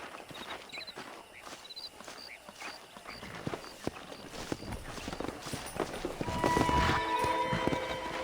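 Horse hooves clip-clop in Red Dead Redemption, starting as sparse steps and growing into a busier, louder trot near a wild horse herd by a ranch, with no talk.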